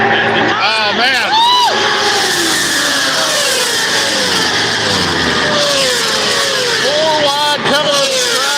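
Racing motorcycles at the Daytona 200: loud, continuous engine roar with rising and falling revs as bikes pass, under steady commentary.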